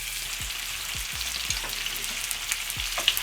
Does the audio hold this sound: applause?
no